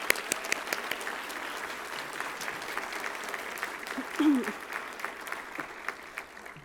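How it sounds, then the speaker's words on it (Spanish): A crowd of young people and guests at a youth swearing-in ceremony in a Mexican legislative chamber breaks into strong, sustained applause, a dense clatter of many hands with some scattered crowd voices mixed in. "Un aplauso fuerte, por favor."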